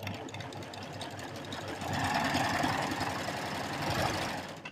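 Domestic sewing machine running an overlock seam on fabric, a steady mechanical hum with rapid needle chatter that grows louder partway through and runs continuously to the end.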